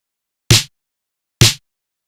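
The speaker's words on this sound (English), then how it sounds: "the snare is a layer of two samples" Chillwave snare sample hit twice, evenly spaced, each a bright, noisy crack with a short body and quick decay, loud and dry against silence.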